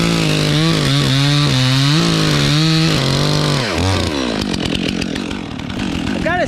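A Stihl MS 400c chainsaw with a 28-inch Oregon bar roars loud and close as it cuts wood, its pitch rising and bogging through several revs, then dropping into a rough, chattering idle near the end.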